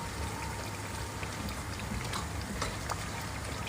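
Ghanaian shito pepper sauce fries in a pan, a dense, steady crackling sizzle that fills the whole stretch, close and even with no pauses.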